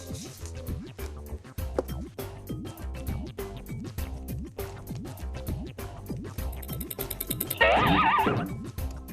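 Comical donkey braying sound effect for a box-puppet donkey in a children's arts-and-crafts show, repeated whinnying brays over bouncy background music, rising to a loud, dense burst near the end.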